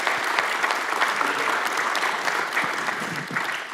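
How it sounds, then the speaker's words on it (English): An evening community gathering on gun violence, held in a church sanctuary, gives a round of applause for youth council members; dense, steady clapping from a crowd continues for nearly four seconds at moderate volume. "let's give them a round of applause for their service."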